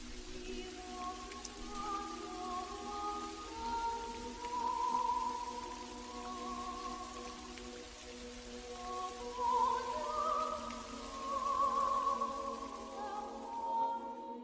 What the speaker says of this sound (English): the rain falling into the spare room